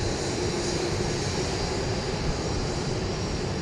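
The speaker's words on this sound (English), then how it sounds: "So all I know is that it's a Bombardier Global 6000." Bombardier Global 6000 business jet at Dallas Love Field, a steady, even engine roar holding at a constant level throughout, with no talking.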